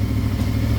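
A 2023 Yamaha YZF-R7 motorcycle engine idles smoothly and quietly, a steady low-pitched throb with an even pulse, close by and with no talk over it.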